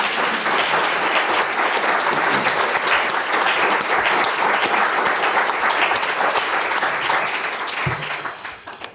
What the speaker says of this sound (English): Please give them one more round of applause for that.